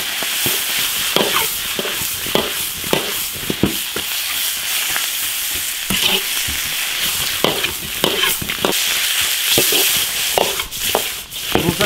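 Soaked dried bamboo shoots and eel are stir-fried in an iron wok, giving a loud, continuous sizzle broken by frequent scraping strokes of the spatula in an irregular rhythm, close up and with no talking.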